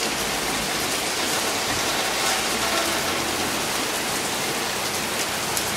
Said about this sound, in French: Le voilà pris au piège de la pluie normande.